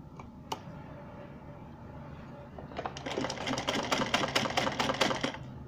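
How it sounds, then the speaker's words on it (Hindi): Sewing machine stitching a salwar hem: after a quiet start with a few faint clicks, the needle action kicks in around midway as a rapid, close, rhythmic clatter that keeps running to the end. "तो इस तरह से हम सारी सिलाई लगा देते हैं।"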